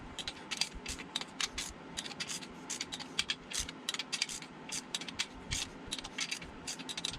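A torque wrench works the bolts of a Volkswagen air-cooled 2007cc stroker engine in a crisscross pattern, giving rapid quiet ratcheting clicks in short bursts. The sound is close but faint, with no voices.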